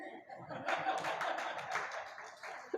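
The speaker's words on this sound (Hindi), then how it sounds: "सुनो, अभी तुम ताली नहीं बजा, बाद में बजाना।" An audience in a religious discourse hall bursts into a short round of clapping mixed with chuckles and laughter, lasting about two seconds at moderate distance.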